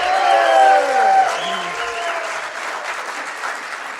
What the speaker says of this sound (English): So let's give a huge cheer to the start of our coalition meeting to say hello.